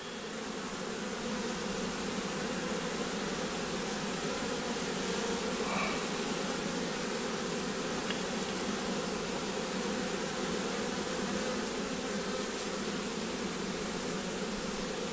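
Honey bees crowd a hive board as their queen walks in, giving a steady, dense buzzing hum that stays close and even throughout with no voices.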